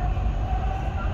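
A Dubai Metro Green Line train runs along its route, its rumble loud and continuous from inside the carriage, a steady low roar with a faint hum above it.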